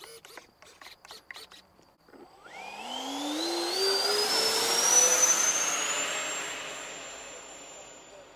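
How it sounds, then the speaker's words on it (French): A twin 70mm EDF electric ducted-fan motor on an FMS Su-27 RC jet spools up after a few clicks, a rising whine that climbs to a loud, steady high-pitched roar close by. "Allez, c'est parti, moteur en route."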